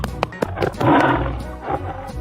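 A tiger in a children's animal transformation animation lets out one loud, close, growling roar that swells and fades over about a second, with light music underneath.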